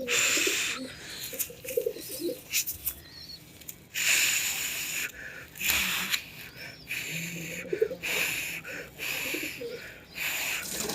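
Pigeons coo in low repeated bursts close by, separated by short pauses, with bits of fluttering and shuffling between calls.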